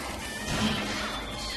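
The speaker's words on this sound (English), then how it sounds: "You break that glass." Glass smashes in the fighting video game Bloody Roar: Primal Fury, a brief dense crash swelling over a loud, noisy game background.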